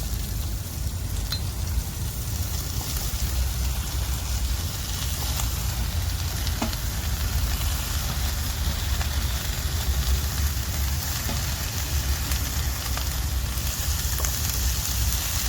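Taklya wild greens and masala frying in a pan, a continuous crackling sizzle like rain with scattered pops and faint stirring clicks, steady and close.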